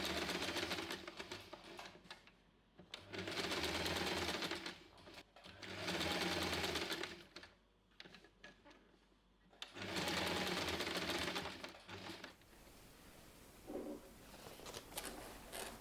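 A sewing machine bastes straps onto a reversible tote bag in several bursts of steady, loud stitching, separated by brief pauses and quieter handling of the fabric.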